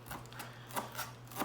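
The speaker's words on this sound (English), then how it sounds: "finish chopping your cilantro" Knife chopping fresh cilantro on a board, a quick run of sharp, evenly spaced taps close by over a low steady hum.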